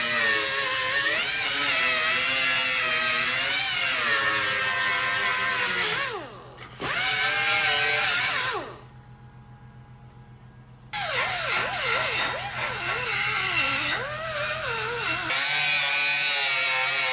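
A power tool cuts through sheet metal on a car body panel during a Chevrolet Nova restoration, a loud close whining drone that wavers as it bites, stops briefly twice, then resumes.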